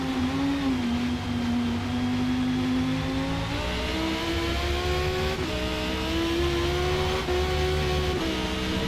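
A BMW M1 engine in Forza Motorsport, racing on a wet track, holds a steady loud drone with harmonic whine that rises and shifts through gear changes around 3.5 and 5.5 seconds, continuous and close.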